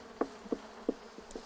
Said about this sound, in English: What we're going to do is shake these bees off